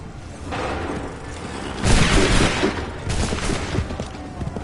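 Musket volleys crackle in an Assassin's Creed III battle, with a dense ragged burst of many shots near the middle and scattered further reports after it, loud against background battle noise.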